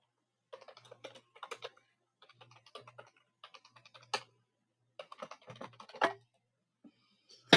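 A password typed on a computer keyboard at an Ubuntu login, quick clusters of light key clicks with short pauses and a couple of heavier keystrokes, close and otherwise quiet.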